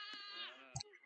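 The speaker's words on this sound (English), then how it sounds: "I'm actually hearing sheep" A sheep in a Roblox voice-control obby game gives one drawn-out, wavering bleat, fairly quiet, followed by a brief click.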